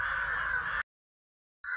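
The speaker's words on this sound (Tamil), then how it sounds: "இந்த காக்கா கூட்டம் எல்லாம் மேலே இருந்து சத்தம் போட்டுகிட்டே இருக்குங்க பாருங்களேன்" A flock of crows calls from overhead: one long, harsh caw rings out clearly, breaks off into silence, and another caw begins just as the clip ends.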